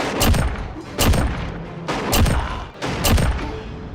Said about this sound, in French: C'est ça, donc coup de fusil à pompe.